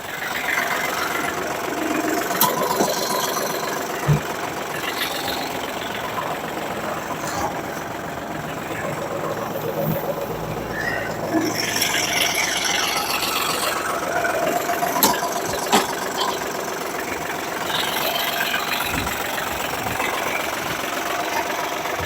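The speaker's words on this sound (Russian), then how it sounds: "Включим вал отбора мощности." A Kubota L1-205 mini tractor engine runs steadily with its power take-off shaft engaged, a continuous mid-pitched mechanical drone that holds at one level throughout with some faint clatter.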